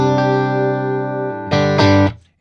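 Fender Stratocaster on a clean tone through a Milkman Sound 20-watt Creamer amp, close-miked: a sustained ringing chord followed by two quick strummed chords that decay into silence.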